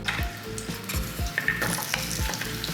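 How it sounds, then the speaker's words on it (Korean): Potatoes stir-frying in hot oil in a pan give a steady, close sizzle with scraping stir strokes and a few utensil clinks, with no voices. "이제 팬에 기름을 두르고 감자를 볶아주겠습니다"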